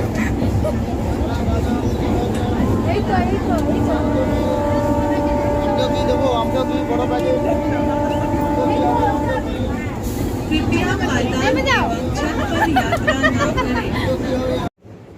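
A crowded passenger train sets off on a trip to Digha, its steady rumble and rattle running under lively crowd chatter and nearby voices.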